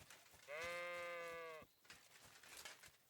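A single sheep gives one clear, drawn-out bleat lasting about a second, fairly soft, followed by faint quiet background movement and no speech.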